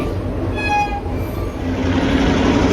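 The Autumn Limited excursion train rolls through Indiana, a loud rumble of rail cars with a short, clear horn blast early on and then steady wheel noise.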